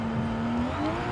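A Toyota Camry NASCAR racer with a 2JZ engine in Forza Horizon 5 holds a steady, mid-volume drone, its pitch creeping upward as the revs climb.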